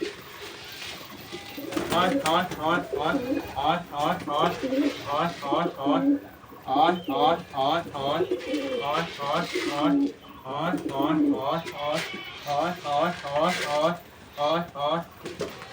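A flock of pigeons cooing repeatedly and close by while being fed, overlapping rhythmic coos in bursts with brief pauses; a voice may be faintly present underneath.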